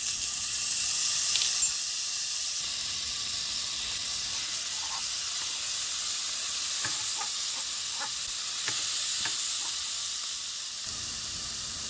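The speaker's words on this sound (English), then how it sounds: "as you can see, the garlic is browning" Minced garlic sizzling in melted butter in a pan, a continuous bright hiss that stays close and even throughout, with a few faint scrapes of stirring and no voices.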